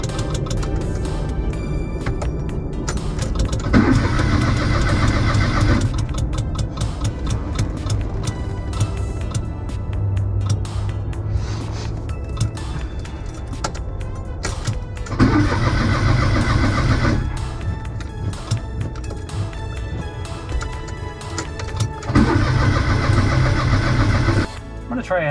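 An old pre-Civic Honda coupe's engine cranks in several repeated bursts of the starter, with a steady rumbling running throughout and someone talking over parts of it.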